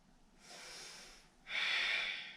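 Two slow, audible breaths taken during a yoga pose, a softer inhale followed by a stronger, airy exhale, close and alone with no talking.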